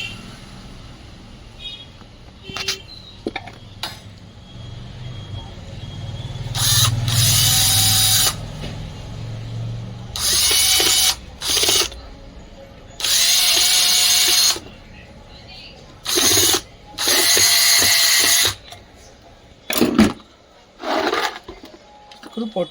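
An electric screwdriver drives screws into a table fan under repair, in several loud whirring bursts of a second or two each, separated by pauses with handling noise.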